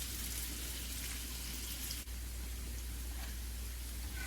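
Onion and garlic fry in a pan, giving a constant, even sizzle like steady rain that continues evenly throughout with no talk.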